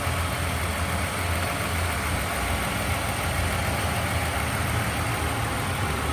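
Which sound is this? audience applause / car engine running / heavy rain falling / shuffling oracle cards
car engine running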